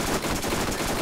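Rapid automatic gunfire from the video game Borderlands rattles out in a dense, loud, continuous burst of shots, close and alone.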